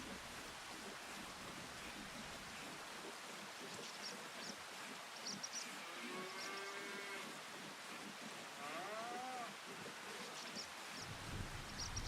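Cattle in a dairy barn in Farming Simulator 25 give several drawn-out moos over a steady soft background hiss, moderately close and fairly quiet overall.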